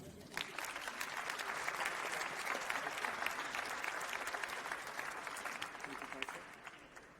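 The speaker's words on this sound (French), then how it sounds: "Sous vos applaudissements." Audience applause at an award ceremony, a dense burst of many hands clapping that swells and then fades after about six seconds, heard at moderate distance.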